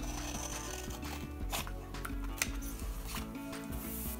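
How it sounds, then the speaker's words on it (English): Scissors cut a printed paper favor bag template in a close, quiet run of small snips mixed with paper rustling and scraping. "And for these little ones, I'm going to use my scissors."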